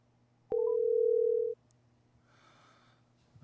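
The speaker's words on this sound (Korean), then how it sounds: "전화가 연결이 끊겼네요." A steady telephone dial tone sounds loud and alone for about a second after a phone call disconnects, then cuts off, leaving quiet room noise and faint background sound.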